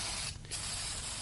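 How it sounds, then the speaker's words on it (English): A fine spray puts a light coat of varnish on in one short hiss lasting about a second, fairly close and alone. "Now, just a light spraying should do the trick."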